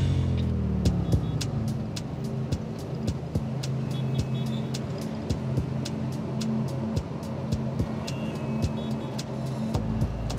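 A truck drives through city traffic with a steady, loud engine drone that runs throughout, punctuated by regular sharp ticking clicks.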